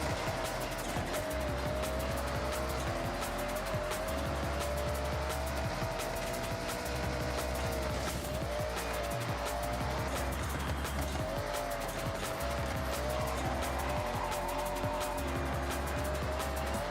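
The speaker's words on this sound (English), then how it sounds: "This car has way too much power." An overpowered car in Forza Horizon 6 roars continuously at high revs, engine note rising and falling with gear changes, with tire squeal layered in throughout at steady loudness.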